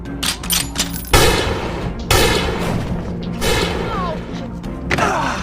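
Several loud, sharp gunshots ring out about a second apart, each a sudden bang over a busy, rumbling background.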